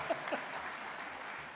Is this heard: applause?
yes